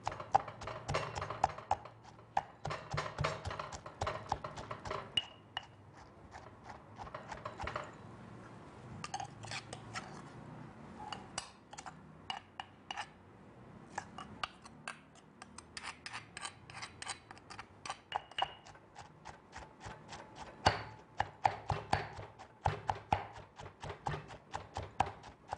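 Chili paste ingredients pounded in a mortar and pestle for Thai nam prik, giving a steady run of sharp, close knocks in an uneven rhythm for the whole stretch, with no talking.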